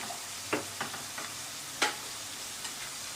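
Beans and carrots stirred in hot oil in a pan for veg fried rice, a quiet steady sizzle broken by a few sharp scraping stirs of the spatula, close and faint, with no talking.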